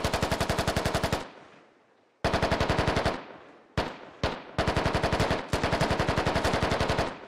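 Automatic weapon fire in the military game Squad: several long, rapid machine-gun bursts, loud and close, separated by short gaps with echoing decay between them.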